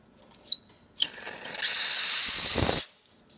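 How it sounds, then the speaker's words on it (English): A Pasquini Livia 90 espresso machine's steam wand opens with a brief sputter, then a loud, steady hiss for about two seconds before cutting off, after a couple of small clicks. "Let's go ahead and test the steam"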